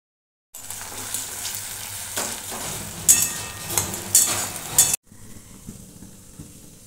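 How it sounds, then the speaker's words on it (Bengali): Tomato and green chili paste tipped into a hot pan for sabu chatpata, with a steady broadband sizzle, scraping stir strokes and a few sharp metallic clinks before the noise drops to a quieter simmer. "এতে এবার দিয়ে দিচ্ছি এই টমেটো পেস্টটা টমেটো আর কাঁচা লঙ্কার পেস্ট"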